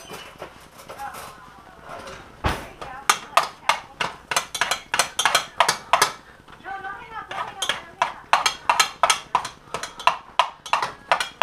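Potatoes roughly chopped for mash with a dull knife on a cutting board, sharp repeated thunks in quick irregular bursts, close and loud, with a person talking between the strikes.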